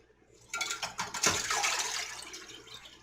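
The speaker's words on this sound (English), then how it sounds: "I'm going to go ahead and strain the second one" Dandelion tea liquid pours and splashes steadily while being strained for jelly, a continuous close trickling wash that starts abruptly and tapers slightly toward the end.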